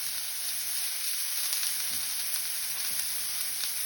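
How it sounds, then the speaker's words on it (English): Pork for carnitas searing fat side up in a hot pan, a loud, constant close-up sizzle with crackling spatters and no voices. "Now we're gonna sear our pork."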